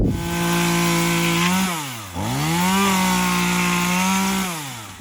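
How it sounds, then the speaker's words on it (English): A chainsaw roars close by, engine pitch dropping as it bites into wooden pallets, then revving back up for another cut, loud and continuous. "so you can see chainsaw, quick, easy, and efficient"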